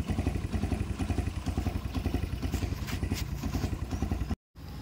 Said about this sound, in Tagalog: Kalyado yung andar niya